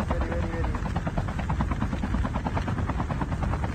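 A helicopter in a Call of Duty match thrums with loud, continuous rotor beats close by, a steady fast chopping pulse that fills the whole moment.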